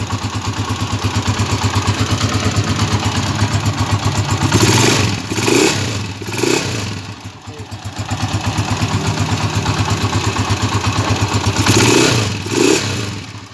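An SR125 motorcycle converted to a TMX155 engine idles up close with a hard, rapid thumping beat, and its revs rise briefly a few times in the middle and again near the end.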